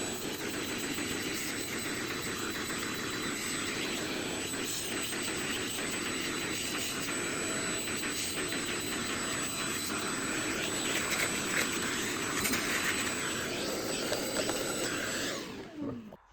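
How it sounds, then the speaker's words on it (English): A vacuum cleaner cleaning the filters of a high velocity blow dryer runs steadily with a loud, broad whooshing roar and a faint high whine, then cuts off abruptly at the end. "To clean it you will need a simple vacuum cleaner"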